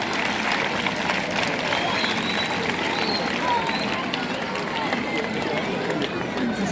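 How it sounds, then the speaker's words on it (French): Audience clapping steadily at an outdoor official ceremony in DR Congo, a dense sustained wash of applause mixed with crowd murmur that stays loud and even throughout. "Applaudissons pour votre collègue."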